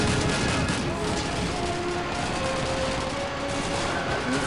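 Machine gun fire in Call of Duty 2 crackles in dense, continuous bursts under a sustained battle din, with someone talking over it.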